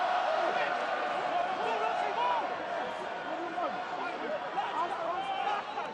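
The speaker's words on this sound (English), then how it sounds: "And the crowd begins to roar the team on." A rugby crowd at a Premiership match between Leicester and Newcastle roars the team on, a broad, sustained wash of cheering that holds steady throughout while a commentator talks over it.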